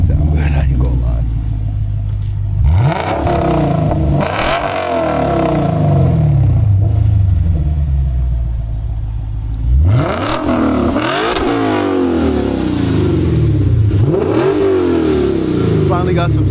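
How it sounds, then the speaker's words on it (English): Modified car engine with 500+ hp mods revving hard in repeated open-throttle blips that rise and fall, loud and close, with people talking between the revs. "That's an open rev. Rev it."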